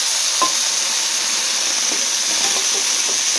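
Green chillies and cooked chickpeas fry in a pan for a chickpea sundal, making a loud, continuous hiss and sizzle with a few faint pops scattered throughout.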